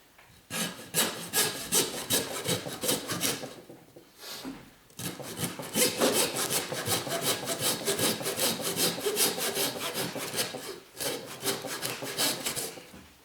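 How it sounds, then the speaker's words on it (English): Handsaw cutting through pork rib bone to separate the belly from the back loin: close, loud rasping strokes in a steady back-and-forth rhythm, with two short pauses between bursts of sawing. "We're going to take our handsaw, and from the bottom, about an inch of rib left on there."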